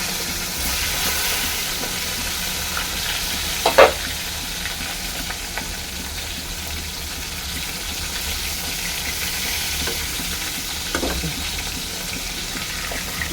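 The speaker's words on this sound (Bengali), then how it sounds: "সব মাছগুলোই একবারে ভেজে নিই" Live tilapia fish frying in oil produce a steady, fairly loud crackling sizzle throughout, with a brief clatter near the start and a softer knock later, heard close with no talking.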